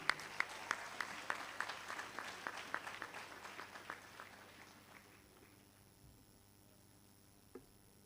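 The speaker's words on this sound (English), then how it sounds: "With a round of applause, shall we welcome upstage our guest speaker, Emeritus Professor Marcel Turner." An audience at a university congregation ceremony applauds to welcome a guest speaker onstage, the clapping fairly distant and reverberant, strongest at first and then thinning out and fading away over several seconds.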